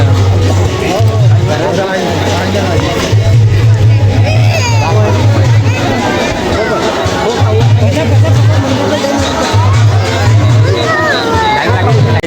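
A dense crowd packs the grounds of a temple in Rajkot, a steady loud hubbub of many voices chattering close by, with a low engine drone rumbling in and out beneath the babble throughout.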